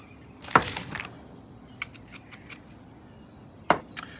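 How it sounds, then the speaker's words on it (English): Three eggs cracked against a hard edge and beaten for an Italian omelette on a griddle, heard as a few sharp, close taps and clicks, spaced out with quiet gaps between them. "3 eggs, crack them and beat them"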